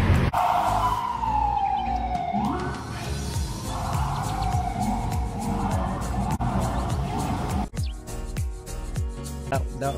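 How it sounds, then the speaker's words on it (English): An ambulance siren wails and sweeps through a New York City street, fairly distant and mixed with traffic rumble, its tone rising and falling before fading. "ambulance siren blaring"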